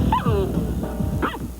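Dalmatian puppies on a film set for a live-action Disney movie barking and yipping, a few sharp close barks with whimpering between them, loud and dense, with no one talking.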